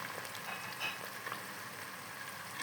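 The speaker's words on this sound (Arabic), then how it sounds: "حطيت التوم هقلبه تقليبتين كده شويه بس هحمره" Garlic frying in ghee with onion in a pan, a steady bright sizzle and crackle with soft scraping from stirring, close and continuous with no talk.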